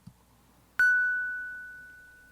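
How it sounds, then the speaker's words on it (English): A single music box note rings out clearly, a sharp bright pluck that hangs and slowly fades over about two seconds in an otherwise quiet space. "This is the sound of a music box note."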